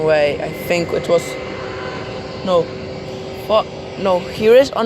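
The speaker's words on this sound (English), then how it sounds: "Okay, German wings. Airbus F319 will taxi to runway." A Germanwings Airbus A319 taxis at Cologne-Bonn Airport, its engines giving a steady, moderately loud whine and drone that runs under frequent close conversation.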